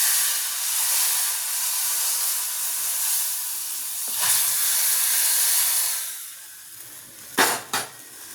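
Steady, loud sizzling hiss of hot oil tempering with curry leaves and a bay leaf poured into soup, fading toward the end, followed by two sharp metallic clinks.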